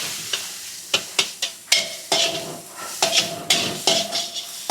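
Mixed vegetables with chopped masala fry lightly in a kadai, a close sizzle under repeated sharp scrapes and knocks of a ladle against the pan, without speech.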